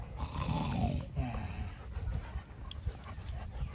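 Two dogs play together over a shoe, with close, continuous panting, snuffling and scuffling that goes on without a break and rises to bursts of rough breathing.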